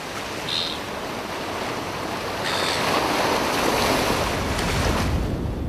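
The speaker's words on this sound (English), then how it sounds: "In this bay, the waves are refracting towards each headland." Ocean waves break steadily on a rock platform at a headland in a bay, a continuous broadband roar of surf that swells slightly louder midway, with some wind rumble on the microphone and no voices.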